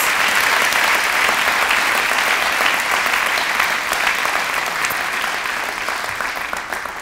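An audience applauds award winners at the Raymond S. Kellis Leadership Award ceremony, part of an employee recognition celebration. The clapping is loud, dense and steady for about seven seconds, easing only slightly toward the end, with no voices.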